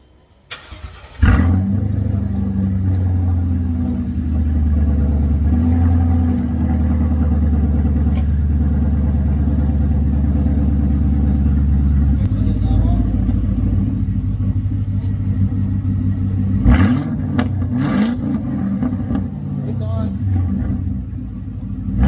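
Car engine with a Flowmaster X pipe, 2.5-inch exhaust all the way back and the mufflers cut off, idling with a loud, deep, steady rumble that holds for about twenty seconds, with a brief surge partway through.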